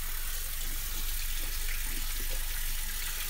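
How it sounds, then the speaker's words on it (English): Running water from a tap pours over a Semogue 1305 shaving brush as it is rinsed of Stirling soap lather; a steady, close splashing gush with no voices. "let me rinse out my brush."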